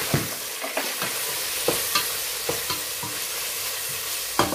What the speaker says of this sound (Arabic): ننتظره يحمس ونرجع وياه